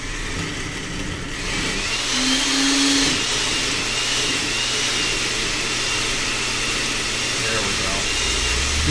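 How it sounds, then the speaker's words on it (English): A blender whirs loudly and continuously while blending hot cream of corn soup in a kitchen, a steady motor roar with a brief pitch shift, as people talk over it. "whenever you put something hot in a blender, stand back"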